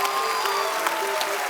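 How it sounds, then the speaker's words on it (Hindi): Standing ovation from the studio audience of The Kapil Sharma Show, a bright, continuous burst of crowd clapping with a faint musical tone underneath. "स्वामी जी के लिए खड़े होकर तालियां बनती हैं।"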